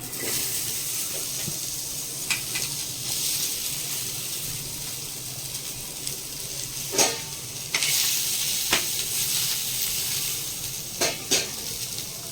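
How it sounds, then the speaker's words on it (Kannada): Onions frying in oil in a pan for mutton curry give a steady loud sizzle throughout, broken by a few clinks and scrapes of stirring against the pan. "ಈಗ ಈರುಳ್ಳಿ ಹಾಕೋತಾ ಇದ್ದೀನಿ"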